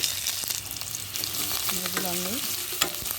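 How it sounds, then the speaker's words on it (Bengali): Chopped onion sizzling in hot oil with ginger and garlic, stirred with a spatula; dense crackling fry up close, with scraping strokes and a brief tonal squeak in the middle. "আদা রসুন ভাজা হয়ে গেছে, এখন দিয়ে দিলাম পেঁয়াজ কুচি।"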